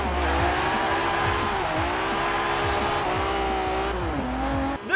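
A Lamborghini Diablo GTR's V12 engine screams through repeated gear changes in Forza Horizon 4, a loud, continuous high-revving wail that dips briefly at each shift before climbing again, close and alone.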